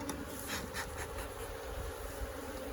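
Honey bees buzzing steadily around a hive, a dense continuous drone close to the microphone with no talking.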